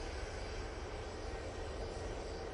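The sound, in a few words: Ryanair Boeing 737-800 airliner taking off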